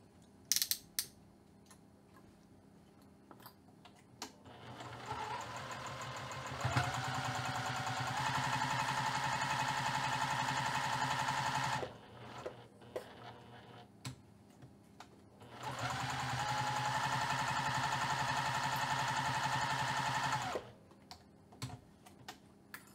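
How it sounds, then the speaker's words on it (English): A sewing machine runs in two long, steady stretches, whirring along 1/8 inch from the pinned edges of fabric for a bag side pocket, with brief handling clicks between the runs and no talking. "I'm going to go ahead and sew the pinned edges 1/8 of an inch away from the edge of the fabric"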